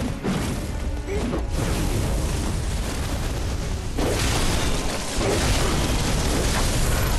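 A fireball-shooting enemy attacks in the game Bloodborne, giving loud crashing blasts and rumbling booms that keep up over a dense, continuous background of combat noise, with a fresh burst about halfway through.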